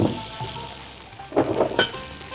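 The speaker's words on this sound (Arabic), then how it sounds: "نبتدي نشوح مع بعض الرز والفراخ على طول" Rice and chicken being stir-fried in a hot pan give a steady sizzle, with two louder bursts of scraping and tossing near the end; no one speaks.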